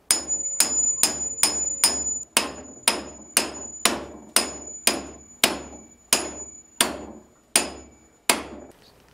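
Hammer blows on an impact screwdriver set in a screw on a Honda Hobbit PA50 II moped engine, about fourteen sharp metallic strikes at a steady rhythm, loud and close, each ringing briefly before the next.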